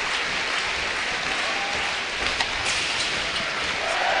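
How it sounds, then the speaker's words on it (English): Ice hockey arena crowd at an EIHL game between the Nottingham Panthers and Sheffield Steelers, a steady roaring cheer and applause filling the rink as a referee falls on the ice, continuous and loud throughout. "Referee takes a tumble and gets a big cheer"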